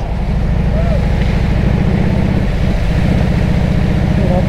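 A motorcycle engine idles steadily and loudly throughout, a continuous low rumble with a regular pulsing beat and no pauses, recorded close up on a road trip while the bike sits waiting.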